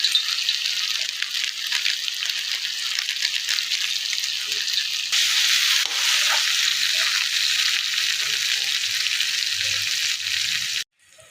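Tadka masala with onion sizzles and fries in a hot pan for an egg tadka, a loud, continuous hiss with faint stirring rattles, cutting off abruptly near the end.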